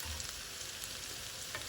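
Potatoes and onion sizzle steadily in a pan along with crackling rendered fat-tail cracklings, a dense continuous hiss with small pops, close and even throughout.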